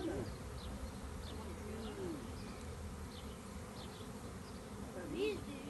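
A garden swarm of about 20,000 honeybees hums as a continuous faint buzzing drone, with occasional birdsong and coos from a dove or pigeon in the background.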